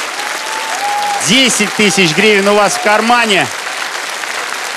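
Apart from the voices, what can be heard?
studio audience applause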